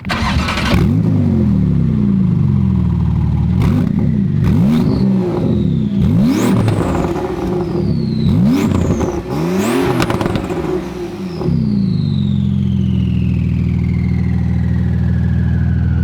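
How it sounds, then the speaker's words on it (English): Porsche GT2 RS fitted with a new exhaust, revving repeatedly in sharp rising and falling blips, loud and close, before settling into a steady rumbling idle. "we'll show you guys how this new exhaust sounds"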